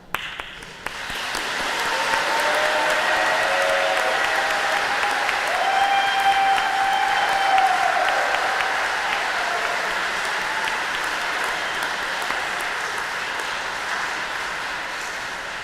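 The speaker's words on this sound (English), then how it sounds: "One more applause for them." Sustained applause rolls through a graduation commencement, a steady crowd of clapping hands lasting well over ten seconds, with faint tonal sounds drifting underneath.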